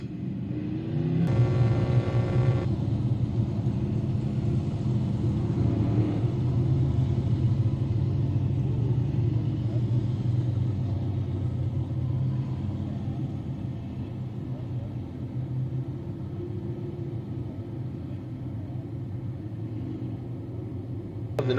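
Race cars rumble around the track at Fonda Speedway, a sustained distant engine drone with a slow swell and fade.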